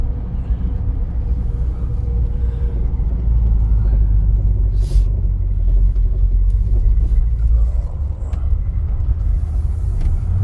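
Steady low engine rumble inside a moving Edsel car, a dense, constant drone that fills the whole stretch with faint rattles and clicks over it and no voices.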